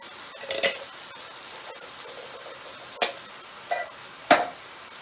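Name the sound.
mixing pasta bake ingredients in a dish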